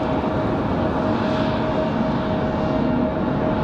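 An airliner touching down at Raleigh-Durham airport, heard as a steady, broad engine roar with a faint whine, fairly loud and continuous against windy outdoor air.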